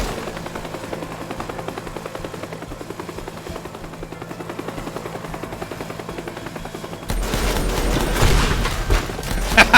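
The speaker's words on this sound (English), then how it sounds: "We basically just tanked that explosion to the face" An explosion in the video game Teardown hits about two-thirds of the way through as a sudden loud, broad blast that stays heavy and rumbling to the end, after a quieter stretch of mechanical droning.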